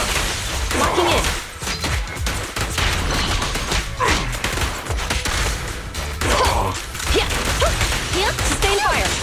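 Sustained gunfire in the action video game Zenless Zone Zero, a loud, dense clatter of shots mixed with whooshes and impacts that runs through the whole stretch, with voices talking over it.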